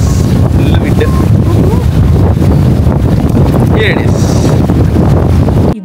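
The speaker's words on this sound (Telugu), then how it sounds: "Full wind." Strong wind buffets the microphone outdoors on the Las Vegas Strip near Caesars Palace, a loud, continuous roar that persists steadily while people talk beneath it.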